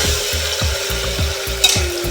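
Crushed garlic and chili paste sizzles and spits in hot oil during tempering for a village-style dish, a loud, steady fry broken by repeated stirring scrapes at a regular rhythm.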